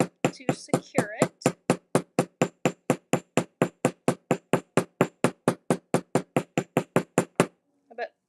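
Rapid, steady hammering on a metal rivet set through jewelry filigree, about thirty sharp close taps in an even rhythm, with a brief stretch of speech at the start and a faint voice at the very end.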